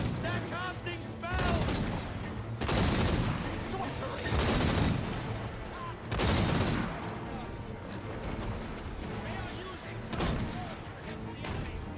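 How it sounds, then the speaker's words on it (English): Hellblaster volley gun wagons and cannons fire in a Total War: Warhammer 3 battle with repeated loud rattling volleys and booming blasts every couple of seconds over constant battle noise, with someone talking over it. "I just wanted to listen to the Black Lions fire a little bit"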